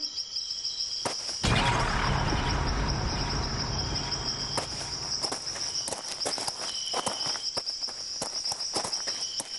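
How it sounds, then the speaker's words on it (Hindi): Footsteps of approaching soldiers in a Hindi horror TV drama, a run of soft, irregular steps growing more frequent over a steady chorus of night crickets and insects. "अचानक से उसे कुछ कदमों के चलने की आहट आने लगी और धीरे धीरे वो आहट और भी करीब आने लगी।"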